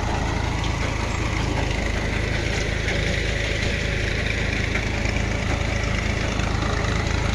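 A tractor engine idles at a tube well boring site, a loud, dense, unbroken mechanical drone with steady low thrumming that holds constant throughout.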